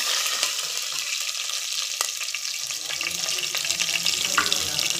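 Garlic sizzles steadily in hot oil in a pan, a continuous close crackling hiss with a few scattered pops and faint stirring clinks, with no talking.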